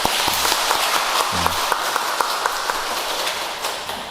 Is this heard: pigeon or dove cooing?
no